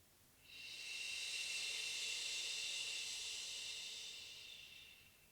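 A single long, steady inhale through the mouth during a breathing exercise, close and airy, holding for about four seconds before slowly fading, with a hushed background otherwise.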